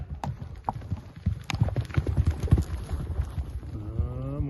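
Horse hooves clip-clop in a steady rhythm, fairly close and clear, with animal sounds and background noise mixed in and no talking over them.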